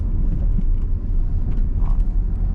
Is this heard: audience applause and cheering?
no